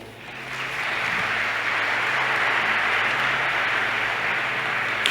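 Steady applause from a church congregation during a sermon, dense sustained clapping filling a large room for several seconds at even loudness.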